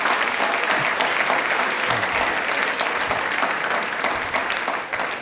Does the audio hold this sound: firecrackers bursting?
no